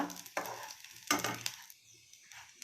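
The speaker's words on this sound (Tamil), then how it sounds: "நம்ம வச்சுருக்கிற மசாலா ஃபுல்லாக போட்டுக்கலாம். நல்லா வணக்கிக்கணும்." Ground masala frying in oil for chicken curry, a few sharp scraping stirs and crackles against the pan amid soft sizzling, close-up and quiet with gaps between strokes.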